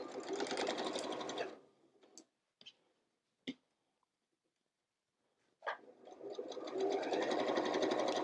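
Sewing machine stitching fabric curves: a fast, loud mechanical whirr for a couple of seconds, a few clicks and taps during a quiet pause, then the steady stitching hum picks up again, close and alone.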